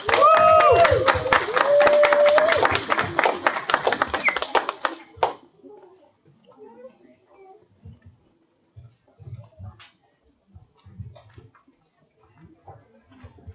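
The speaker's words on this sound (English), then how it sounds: "Give them a round of applause." Parents in an audience at a school Black History Month performance clap in a busy round of applause that lasts about five seconds, then it stops abruptly and only faint shuffling, taps and murmurs follow.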